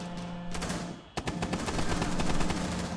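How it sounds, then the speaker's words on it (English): Pistol and rifle fire crackle in rapid, close bursts during a Rainbow Six Siege ranked match on the Oregon map, a dense run of shots with no talk. "That guy's too good with that fucking pistol"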